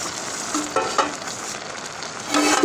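Precooked meat and tripe sizzle with onions in a pot, a steady hiss with occasional stirring clatters, close and loud with no voices.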